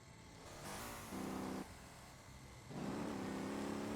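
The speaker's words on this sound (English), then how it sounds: "I don't like the sound of that V12 engine." A V12 engine in the video game Motor Town revs in surges, a droning mid-pitched roar rising and falling in steps over a few seconds, quiet and alone.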